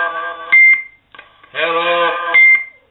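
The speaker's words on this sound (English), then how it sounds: "We'll put Roger beep on it." Two short, high electronic CB radio roger beeps, each cutting off a burst of radio-filtered sideband voice transmission, the second beep following a longer stretch of talk.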